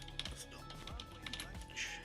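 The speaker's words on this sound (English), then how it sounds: "Hope my keyboard wasn't too loud." Fingers type on a computer keyboard beside a desktop PC during a benchmark run, a quick, faint patter of key clicks with a soft voice murmuring underneath.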